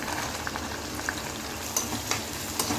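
Green chillies and shahjeera fry in hot oil in a pan, a steady low sizzle with a few light clicks of stirring, close and alone with no voices.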